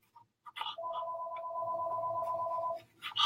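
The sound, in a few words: phone ringing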